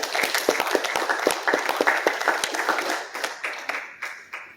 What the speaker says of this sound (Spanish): Vamos a darle un aplauso al Señor, hermanos.